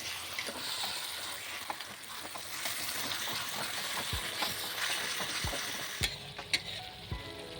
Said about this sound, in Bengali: এভাবে মাংসটাকে একটু কষিয়ে নিতে হবে